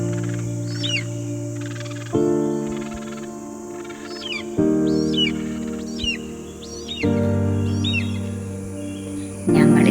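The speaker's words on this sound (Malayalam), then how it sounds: "വാച്ച് ടവറിന്റെ അടുത്തെത്തിയപ്പോൾ തന്നെ പക്ഷികളുടെ ശബ്ദം നന്നായിട്ട് കേൾക്കാം" Birds call and chirp repeatedly from several points near a watch tower at Kumarakom bird sanctuary beside Vembanad Lake, with strong, steady tonal droning running underneath and shifting in pitch.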